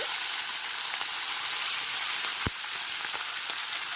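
Fish pieces frying in oil heated on a high flame make a steady, dense sizzle with faint crackles and one sharp pop partway through, no talking.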